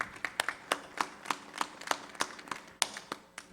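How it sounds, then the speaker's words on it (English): Sparse applause from a small audience for a speaker at a community gathering, a handful of distinct, fairly quiet hand claps spaced unevenly over a few seconds. "Please give him applause."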